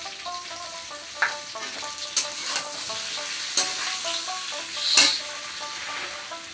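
Turmeric and chili powder are stirred into vegetables frying in a pan, giving a steady soft sizzle broken by a few sharp spoon clinks and scrapes against the pan.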